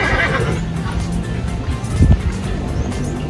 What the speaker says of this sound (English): Meron din silang native horse